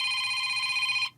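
Stock "Digital Phone" ringtone on a Sony Xperia Z, a bright electronic ring with steady stacked tones that sounds alone for about a second and then cuts off abruptly.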